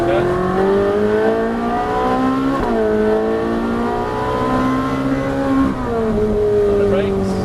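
A race car engine accelerates on track under steady throttle, a loud continuous snarl that climbs in pitch, with brief dips near the three- and six-second marks as the revs shift.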